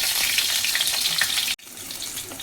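Garlic cloves and a green chili sizzle steadily in hot oil in a home kitchen, a dense, even crackle that drops out abruptly for a moment, then resumes a little quieter.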